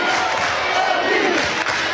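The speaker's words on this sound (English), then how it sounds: "How about this crowd?" A packed stadium crowd roars and cheers at an Oklahoma vs Florida State softball super regional game, a dense, loud, continuous wall of voices with no pause across the whole stretch.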